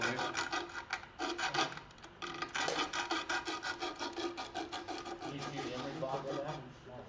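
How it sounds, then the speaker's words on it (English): Hand sanding the rounded opening of a wooden yarn bowl with 60-grit emery strips makes rapid, rhythmic rasping strokes, close and steady, repeated back and forth for several seconds with no talking. "On sandpaper, emery strips seem to work better than anything, but you're going to want it rounded anyway."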